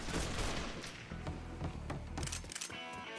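Dense, rapid gunfire fills a Mafia III firefight: overlapping loud bursts and shots crackle almost without pause, with a few sharper cracks near the end.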